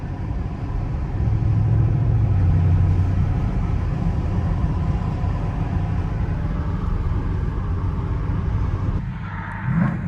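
An Audi RS6 in Nardo grey with a loud straight-pipe exhaust roars steadily on the autobahn, a continuous deep rumble that holds for most of the stretch and eases briefly near the end.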